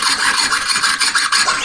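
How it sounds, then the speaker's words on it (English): Rasping strokes of a jeweller's saw blade cutting metal, loud and close, in a steady back-and-forth rhythm with no pauses. "This is a terrible example of sawing."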